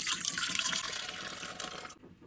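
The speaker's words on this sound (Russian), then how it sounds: "Наливаю 250 мл теплого молока." Warm milk, 250 ml, poured into a dough mixing bowl with sugar already in it, a short steady liquid stream splashing for about two seconds before stopping abruptly.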